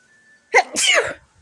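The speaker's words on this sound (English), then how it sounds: "Sneezy break. Been sneezing." A single sharp human sneeze from a person gardening around dry dirt and grass, a quick intake followed by a loud burst, close and alone.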